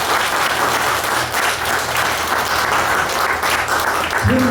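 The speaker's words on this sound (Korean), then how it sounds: "여러분 서로 각자에게 박수를 한번 보내주세요." Audience applause at a live mini-talk during an evening guitar and poetry concert, a dense, steady wash of clapping that holds at an even level for several seconds before thinning at the end.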